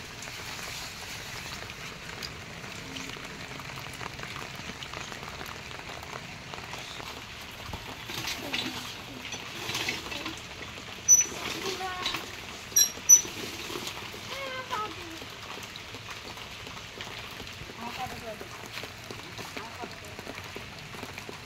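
Rain falls on a road, a steady hiss of drops on the surface with a few sharper splashes and knocks midway, while people talk faintly in the background.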